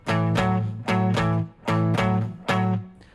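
Guitar strummed back and forth between two barre chords in four rhythmic, sustained strokes with short gaps between them, played alone at a steady pace.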